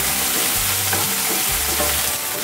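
Pork for Bicol express fries in hot oil, a loud continuous sizzle with some stirring and scraping throughout, and no voices.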